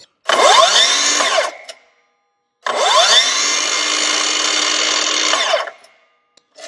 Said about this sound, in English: So now let's spin it and see that brake function without the chip guard.